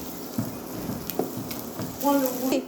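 Potatoes with salt and spices sizzling in a frying pan while making aloo paratha, a steady soft crackle throughout, with a few utensil taps and a brief faint voice near the end.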